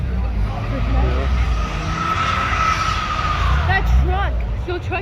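A pickup truck does a burnout at the H2Oi car meet in Wasaga Beach. Engine roar and tire squeal carry steadily through the scene, mixed with crowd noise and people talking nearby.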